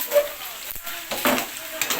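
Pork adobo with papaya sizzles and fries in a pan as it is stirred, with close, crackling frying noise and intermittent scraping stir strokes.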